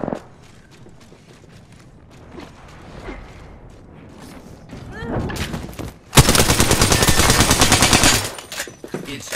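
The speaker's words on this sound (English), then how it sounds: "I am taking fire" Rapid automatic gunfire from the video game Apex Legends, sparse clicks and mechanical sounds at first, then a loud sustained burst of shots lasting about two seconds, followed by a few trailing pops.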